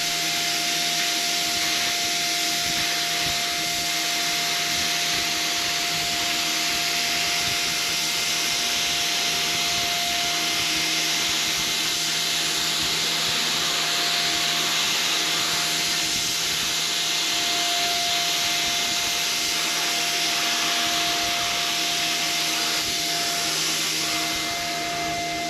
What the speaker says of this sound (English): going to spray a board here from side to side and use this one.